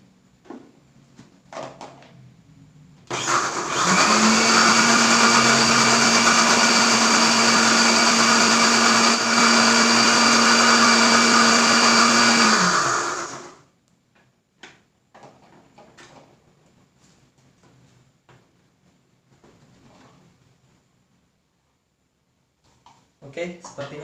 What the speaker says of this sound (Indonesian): sekarang kita akan blender lagi